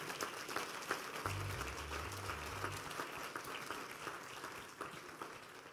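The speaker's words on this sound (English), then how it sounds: "Oh, clap your hands, Sam." A church conference congregation claps hands in a steady, dense wash of applause, moderately distant, with a low hum rising briefly in the middle.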